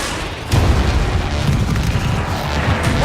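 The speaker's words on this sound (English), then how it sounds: "Missile away!" Deep rumbling boom with a sharp onset, sustained roar and scattered mechanical bursts from a missile launch and explosion in the Battlefield 4 video game, loud and dense with no talk over it.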